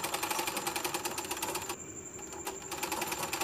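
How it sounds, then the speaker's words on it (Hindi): A sewing machine stitches a lined blouse in a rapid, steady mechanical patter that stops briefly, then resumes; close and fairly quiet, with no talking. "वहाँ से हम इस तरह से सिलाई कर लेंगे।"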